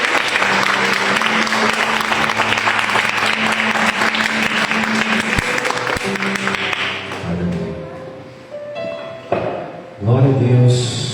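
Church congregation at a youth service applauding in a loud, dense wash of clapping for about seven seconds, then thinning out into scattered claps and a voice speaking.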